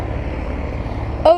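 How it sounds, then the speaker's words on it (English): A PT-17 Stearman biplane's engine rumbles steadily at an airfield, with a low droning pulse and a brief louder burst near the end. "And then this plane is taking off over here."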